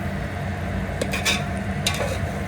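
Eggs stirred lightly into egg pulao in a pan, with a few soft scraping and clinking strokes over a steady background sizzle and hum, close and moderately loud, no talking.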